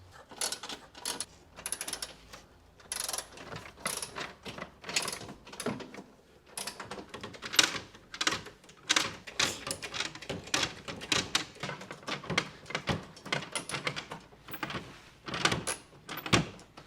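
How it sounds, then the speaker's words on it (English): A ratchet loosens 10mm bolts on the grille surround of a 2022 Toyota Tundra, its rapid clicking bursts repeating in close, uneven runs with short pauses between strokes. "I'm gonna loosen the bolts from above, and then I'm gonna use an extension to go in from the front."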